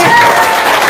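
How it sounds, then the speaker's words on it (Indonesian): An audience applauds in a brief, dense burst of clapping, close and fairly loud, with a faint steady tone running underneath. "Tepuk tangan dulu semuanya."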